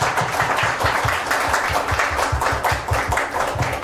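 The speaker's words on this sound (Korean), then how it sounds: "박수 한번 부탁드리겠습니다." Audience applause at an indoor seminar, a dense, sustained patter of many hands clapping at once, steady and fairly close throughout.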